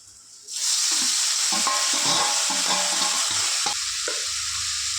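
A loud burst of sizzling erupts as tomatoes hit a hot pan with onions, then a steady hiss continues with occasional stirring clatter.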